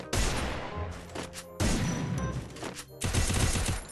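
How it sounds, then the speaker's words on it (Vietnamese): Gunfire rings out in the Free Fire video game in three loud, dense bursts of rapid automatic shots, each lasting about a second with brief gaps between them. "Ok, bây giờ mình sẽ bắn."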